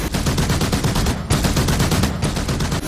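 Rapid enemy gunfire rattles continuously in DCS World's helicopter combat around a 1999 IAF Mi-17 attack on high-altitude mountain bases, a loud dense burst of shots with two brief pauses.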